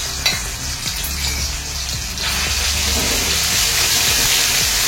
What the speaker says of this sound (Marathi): आले, लसूणची पेस्ट सोडते।